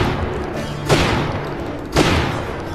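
Gunfire in Syphon Filter: Logan's Shadow, two sharp loud shot bursts about a second apart, each a booming crack that decays quickly over a low background rumble.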